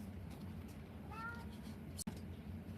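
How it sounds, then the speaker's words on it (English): A house cat gives a single faint, short meow over a steady background hum, followed by a sharp click. "That's my kitten, by the way."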